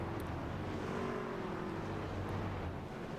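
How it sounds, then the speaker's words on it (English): A field of race cars rolls past the start-finish line at Texas behind a pace car in a sportsman series, a dense continuous engine roar and rumble that stays steady and loud throughout. "Pace car come across the start-finish line here"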